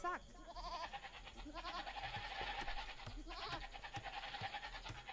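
Sheep bleat in a video game, several short wavering cries from animals at close range, overlapping a voice and other game sounds.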